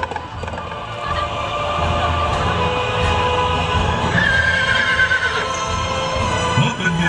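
Horses in a staged battle show at the Ayutthaya light-and-sound spectacle give loud, drawn-out whinnies over a dense wash of hooves and show audio, continuing throughout.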